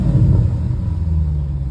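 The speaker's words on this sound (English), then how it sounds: "If you rev the engine up," 2021 Dodge Durango SRT 392 V8 engine revving, a loud, close, deep rumble that swells briefly and then settles into a steady throaty idle.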